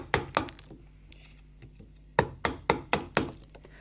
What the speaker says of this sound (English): you can always use a wooden mallet to sort of strike the chisel in at the side